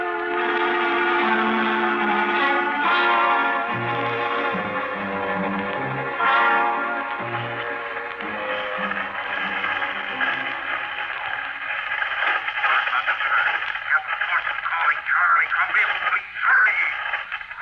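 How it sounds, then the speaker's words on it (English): A radio signal is transmitted in a science-fiction radio drama set in deep space: a long, steady, tonal electronic warble full of layered pulsing tones, loud and continuous, growing busier and more fluttering towards the end. "You getting my signal? It's coming in a little louder now, Skip"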